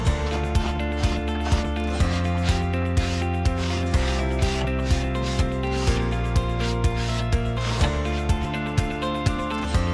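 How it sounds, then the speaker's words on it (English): Card scraper shaving dried glue squeeze-out off a wooden Telecaster guitar body, a run of close, rhythmic rasping strokes about one per second, each ending in a short scrape, with no voices. "my go-to for cleaning up glue squeeze out is the card scraper"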